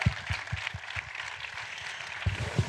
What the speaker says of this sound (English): Can we get a round of applause for those teasers?